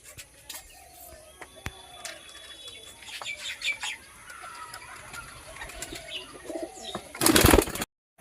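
Pakistani pigeons in a pen give soft coos and chirps with scattered wing flaps and scuffles, ending in a loud burst of flapping wings, while someone speaks quietly in the background.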